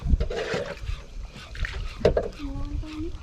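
A borrowed wooden rowboat moves across water on a fishing outing, with hull knocks, paddle splashes and gentle lapping beneath people talking nearby.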